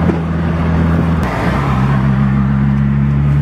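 Subaru WRX engine at a car show-and-shine, droning loudly with a steady low hum that dips briefly then settles into a sustained rumble, with no talking.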